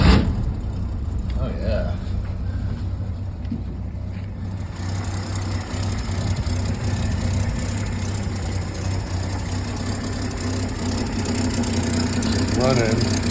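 Engine of a 1950s Chevy school bus with a loose ignition and an exhaust leak turns over and settles into a low, steady rumbling idle, with a person speaking briefly nearby.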